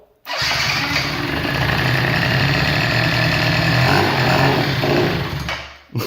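A 50cc Blue Dino mini bike engine fires up and runs loudly and close, a raw buzzing drone that holds steady for several seconds before dropping off abruptly at the end.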